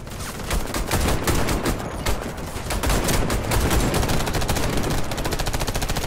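Rapid automatic gunfire in the shooter game Warface crackles loudly in continuous bursts, a dense rattling stream of shots heard close up, with no talking.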